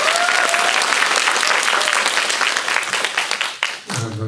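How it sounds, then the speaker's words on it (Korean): A crowd at a film festival screening talk bursts into loud, sustained applause that thins out toward the end as the clapping fades and a voice begins. "큰 박수 부탁드립니다."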